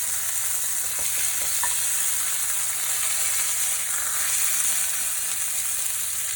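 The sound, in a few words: wagyu fillet steak sizzling in pan after flipping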